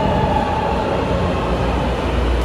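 Steady rumble and roar of a subway train in motion, continuous and loud, with no voices over it.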